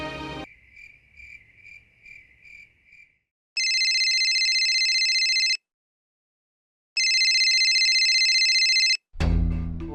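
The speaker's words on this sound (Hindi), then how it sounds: "फोन उठा बल्लू।" A telephone rings with two long, loud electronic bursts separated by silence, preceded by a softer, pulsing chirp-like tone and ending with a sudden, muffled clatter.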